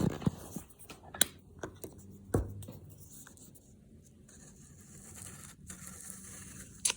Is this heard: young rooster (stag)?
no